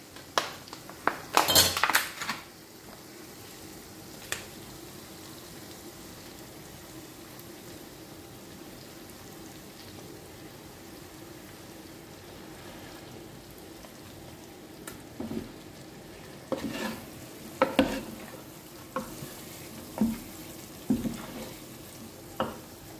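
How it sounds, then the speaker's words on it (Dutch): Chicken frying in a pan in a home kitchen, with scattered scraping stir strokes and clinks of utensil on pan over a low, steady sizzle, close and fairly quiet. "Ik ga nu de kip erbij doen."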